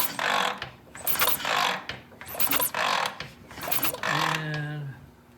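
Someone kicks over a vintage British motorcycle engine by hand with the ignition on. Four or five loud, close, rhythmic ratcheting bursts follow one another, with a low mechanical tone trailing after the last kick.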